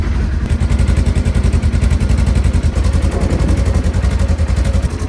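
A Polaris RZR side-by-side engine idles close and loud with an exhaust leak, giving a rapid, even popping chatter that runs steadily throughout.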